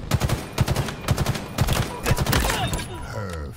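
Three-round burst rifle in Halo Infinite firing repeated quick bursts of three close, loud shots, with short pauses between groups, followed by a trailing echo and tail at the end.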